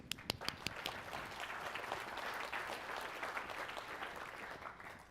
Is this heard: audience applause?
yes